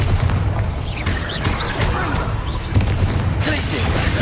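Bombarda exploding spell in the Hogwarts Legacy video game, loud booming blasts and crashing impacts layered with whooshing spell effects and a voice over the top.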